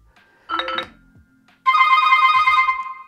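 A ringtone melody plays loudly from the bottom speaker of a Cubot KingKong ACE 2 rugged smartphone: a short bright chime burst first, then a sustained, steady tonal ringtone filling the last half, with no talking.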